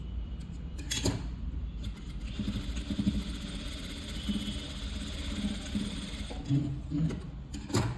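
A sewing machine stitching the neckline of a small child's skirt, running in a steady continuous mechanical whir close by with slight rhythmic variations throughout, no talk over it.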